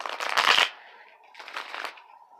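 Two quick riffling bursts of tarot cards being shuffled close up, the first louder and sharper, the second softer after a brief pause.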